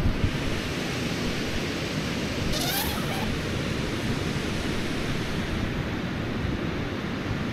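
Small waves wash onto the Baltic shore near Palanga in the morning, a continuous broad hiss of surf mixed with wind buffeting the microphone, steady and fairly loud with no voices.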